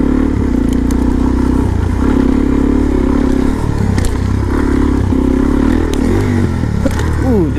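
Suzuki DRZ supermoto motorcycle engine droning steadily at close range, with a loud continuous throttle hum that dips and rises in several passes and ends in a quick rev, wind noise throughout.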